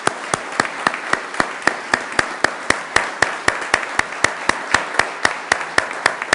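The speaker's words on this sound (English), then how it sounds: "Let's give them a round of applause and thank them." A small crowd at a Sioux Falls city council special meeting claps for the councilors. The claps come as sparse, sharp, evenly spaced beats, close and steady, with no voices.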